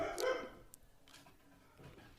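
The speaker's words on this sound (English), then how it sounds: "I apologize for the barking in the background" Dog barking indoors in the background, one sharp bark up front followed by a couple of fainter yips and a low whine, moderately distant.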